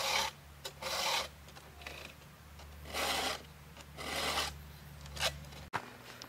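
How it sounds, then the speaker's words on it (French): A round file sharpens the teeth of a mini sawmill's cutting chain, giving several slow, steady rasping strokes close up with short pauses between them. "ma lime, le bas de la lime, le manche là, il est légèrement vers le bas pour que la lime aille attaquer le bout de la dent"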